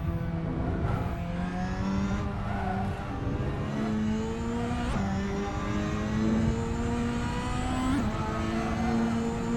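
A super touring car engine from the VRC pack in Assetto Corsa drives steadily through corners, its tone rising and dropping with each gear change, loud and continuous with no voices.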